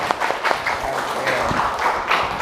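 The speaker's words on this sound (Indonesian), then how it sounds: "Oke, tepuk tangan." Students at a school gathering give a short burst of clapping, a loose patter of hands over light room noise and some faint voices.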